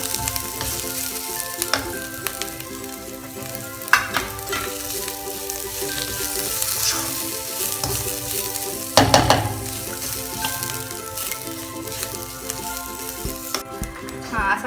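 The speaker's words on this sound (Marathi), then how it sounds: "सुकं खोबरंही थोडं परतून घेऊया।" Dry grated coconut roasting and stirred in a pan while making spicy misal pav, a steady dry sizzle and crackle with occasional scraping knocks from the spoon, fairly close and continuous.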